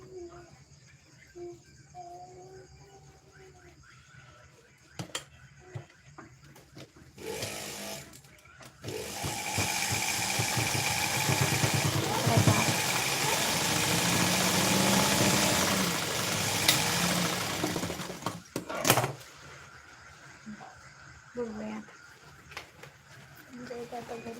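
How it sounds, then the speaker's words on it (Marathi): A sewing machine stitches a thick piece of cloth, running for about ten seconds in a loud, even whirring clatter that starts and stops abruptly, with someone talking before and after. "त्याला मी शिलाई मारून घेते"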